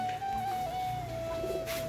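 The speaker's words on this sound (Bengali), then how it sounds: "দেখি কবুতরটা কেমন।" A pigeon indoors gives a single sustained low coo, close and fairly soft, with no talking.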